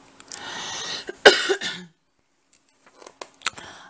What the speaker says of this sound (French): Désolée de tousser, mais je peux pas couper à chaque fois que j'entends un grattement dans la gorge